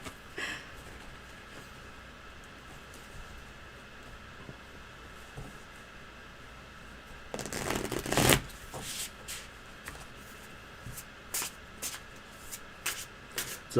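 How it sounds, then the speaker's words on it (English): A quiet, hushed room, then a brisk riffle of cards being shuffled, followed by a few softer shuffles and taps of the deck. "It's a perfect deck for shuffling,"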